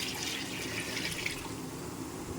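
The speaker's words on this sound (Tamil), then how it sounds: "மட்டன் வேக வச்ச தண்ணி நான் ஊற்றுறேன்" Mutton cooking stock poured into a pot for mutton biryani: a steady close liquid splash and trickle running throughout, with no talk.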